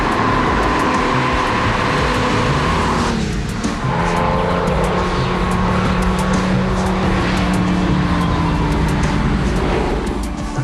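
BMW M1 with a 3.5-litre naturally aspirated 277 hp engine, a loud, continuous racing engine roar with rising and falling revs and some tire squeal, heard up close throughout.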